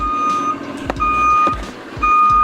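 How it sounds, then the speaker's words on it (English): Loud, steady reversing beeper on a nearby truck, a repeated electronic tone with brief pauses between beeps, over rumbling engine noise and a few sharp clunks; no one talks. "Hopefully that truck isn't too loud"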